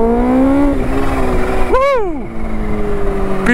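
A Kawasaki Ninja H2 motorcycle accelerating hard on a road near Toulouse, a loud rising engine whine that climbs through gears with a quick shift dip, close and dominant.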